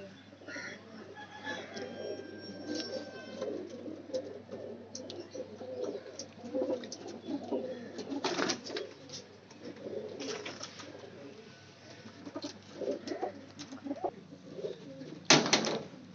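Blue Kamagar pigeons in a loft in Lahore coo repeatedly, throaty calls close by over a low background, with occasional sharp rustles and flaps.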